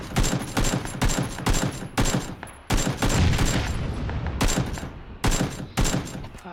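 Bursts of gunfire in PUBG, a battle royale shooter, crack out in a series of sharp, loud volleys with brief gaps between them, some shots overlapping in quick succession and no voices.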